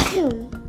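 A single quick sneeze-like burst with a voiced, falling pitch, close and fairly loud, followed by a brief trailing breath.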